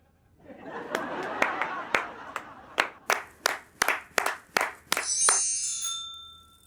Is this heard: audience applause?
yes